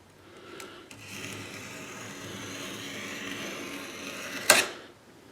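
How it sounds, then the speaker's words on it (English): A scalpel drawn along a straight edge through two overlapping layers of cherry veneer makes a faint, continuous rubbing scrape for several seconds, ending in a brief sharp snap. "And I'm going to use a straight edge and a scalpel now."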